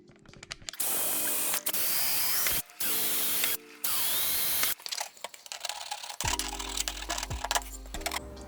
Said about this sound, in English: that's the old plate drilled out, its old makeshift plate mount